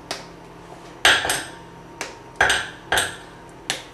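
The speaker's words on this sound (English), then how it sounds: "Take the chocolate and break it into smaller pieces." A chocolate bar is snapped by hand into smaller pieces: about seven sharp, close cracks come at an uneven pace, each one dry and brittle, with nothing else sounding in between.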